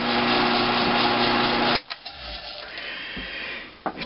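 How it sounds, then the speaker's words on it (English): A valve seat cutter grinds and polishes a valve seat on an IHC engine, a steady loud rasping scrape for nearly two seconds that stops abruptly, followed by faint clicks, a low hum and a brief tool knock near the end. "Just let it ride a little bit, kind of polish it at 50 thousandths."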